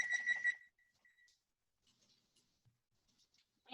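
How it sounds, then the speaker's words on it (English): A kitchen timer is set during a cooking session, giving a quick series of bright electronic beeps followed by faint scattered button clicks in a quiet room. "now I'm gonna set the timer for about 7 more minutes."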